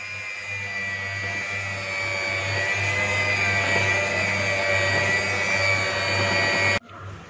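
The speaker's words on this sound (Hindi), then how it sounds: "20 सेकंड्स के लिए इसको मिक्स कर लेंगे" An electric mixer whirs steadily for several seconds as it beats pastry batter with vanilla essence, a loud even motor drone that cuts off abruptly near the end.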